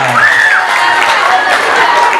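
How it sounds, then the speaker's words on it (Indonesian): A school audience at a Maulid Nabi celebration claps in continuous applause mixed with crowd noise, loud and close, with a voice briefly calling out at the start. "tepuk tangan untuk kita semuanya"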